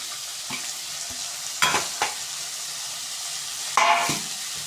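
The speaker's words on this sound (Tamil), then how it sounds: "இப்போ நல்லா வதக்கிக்கோங்க, மொத்தமாக கிளறி விட்டுக்கோங்க நல்லா." Shredded cabbage for egg fried rice is stir-fried in a hot pan: a constant sizzle broken by a few louder scraping strokes as the vegetables are tossed and stirred.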